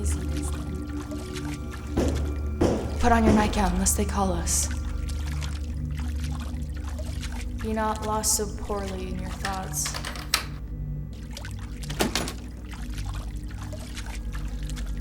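Water is poured and splashed while hands are washed, giving intermittent trickles and small splashes close by, partly under a person speaking.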